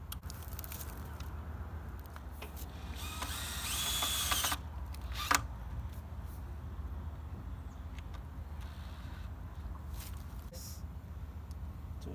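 Screw being driven by hand into a part of a Hyper Tough grass trimmer during assembly, heard as a brief raspy scraping stretch and a single sharp click over steady background noise, close and moderately quiet.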